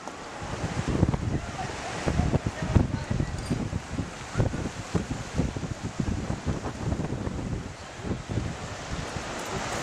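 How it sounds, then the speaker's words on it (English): Strong wind gusts across the Sardinian coast with surf in the background, buffeting the microphone in a continuous, loud rush. "The wind is getting up again."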